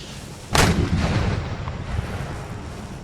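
A cannon fires in the strategy game Empire: Total War, giving one loud, sharp boom followed by a rumbling tail that fades slowly over a steady background of battle noise.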